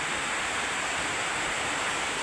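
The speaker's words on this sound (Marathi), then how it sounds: "लय पाऊस आहे" Heavy rain pours down steadily outside a home during a downpour, with water coming into the house, a dense continuous wash of hiss that stays loud and even throughout, with no voices.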